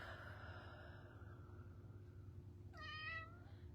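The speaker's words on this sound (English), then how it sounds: "Baby kitty, you're just going to hear her crying and whining at me the whole time." A house cat meows and whines in a quiet room, a drawn-out plaintive cry followed by a sharper meow near the end over low steady background hum.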